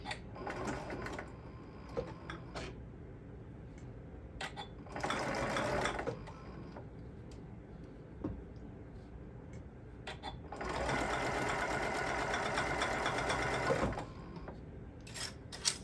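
A sewing machine runs in several bursts, each a couple of seconds long and one longer near the end, with loose items on it rattling and clicking in the quiet gaps between.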